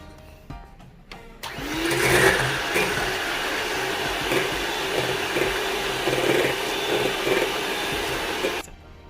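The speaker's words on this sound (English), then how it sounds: "I'm going to whisk this till it's soft and fluffy." An electric mixer whisks egg whites with cream of tartar for a chiffon cake. The motor starts abruptly after a few faint clicks and holds a loud, steady whirring drone that varies slightly in pitch as the beaters move, then cuts off. No one speaks.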